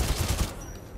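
Enemy gunfire in the shooter Titanfall 2: a loud, rapid burst of shots with booming low thumps that fades into a softer, rattling tail within a second.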